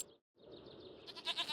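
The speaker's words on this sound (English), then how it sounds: "There you can see we have plenty of goats" Goats bleat in Farming Simulator, with a short call, a brief gap, then a longer wavering bleat that ends in a few quick pulses, close and clear.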